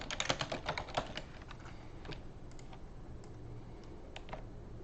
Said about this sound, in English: type in, you know, hit T or the text thing, and then type in their name.